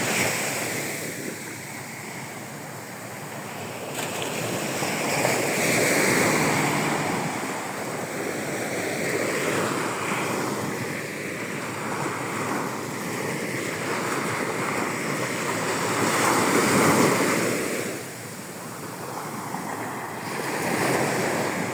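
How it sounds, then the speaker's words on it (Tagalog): Sea waves wash onto a beach at San Felipe, Zambales, a steady broad surf roar that swells and recedes in slow surges, with wind buffeting the microphone and no speech. "Yan ang kabuuan na dito tabing dagat."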